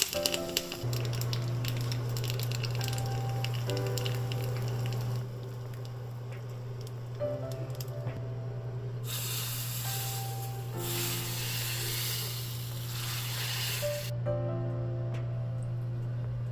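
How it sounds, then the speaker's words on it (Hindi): Curry leaves, red chili and plenty of asafoetida sizzle in hot oil for an Indian tadka, a soft crackling hiss that swells midway under steady background music. "तड़का भी एकदम सिंपल, यहाँ पे करी पत्ता जाएगा, रेड चिली जाएगा और ढेर सारा यहाँ पे हींग जाएगा"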